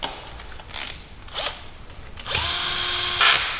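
A power tool screwing parts into an Audi S4 engine in a workshop, loud close whirring in short bursts followed by a longer sustained run with ratcheting.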